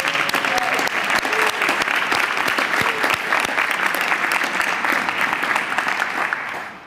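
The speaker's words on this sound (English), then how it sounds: "I want a special round of applause for the school crossing guards." Audience applause for school crossing guards at a New York City mayoral bill signing: dense, steady clapping from a sizable crowd fills the whole stretch, tapering slightly at the end, with no voices over it.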